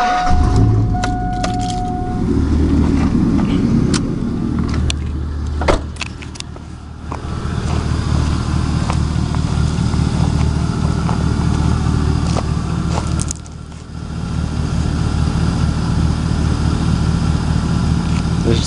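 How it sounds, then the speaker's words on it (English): Keys jangle, then a 2000 Chevrolet Silverado truck's engine turns over and settles into a steady, close idle that runs for several seconds, with a brief dip partway through. "Start the truck."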